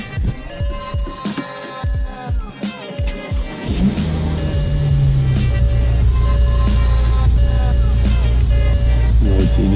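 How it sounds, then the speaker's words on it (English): A starter cranks in short bursts for a few seconds before a car with a BMW N54 engine catches and settles into a steady, loud idle. "let's start the car up. Start up for the last time"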